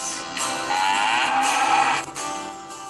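A cow moos once in a drawn-out, loud, close call that rises and then fades, with no other sounds around it.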